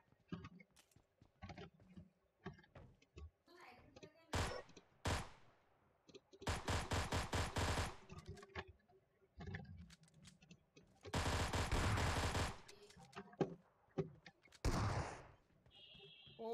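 Gunfire in PUBG Mobile cracks out in loud, sharp blasts and dense bursts across the stretch, separated by quieter gaps filled with faint clicks and game noise.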